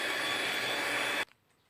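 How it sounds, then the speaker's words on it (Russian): Electric mixer whisking a chocolate mousse mixture for a three-chocolate mousse cake, a loud steady whirring drone that cuts off abruptly near the end and leaves near silence. "И взбиваем еще раз."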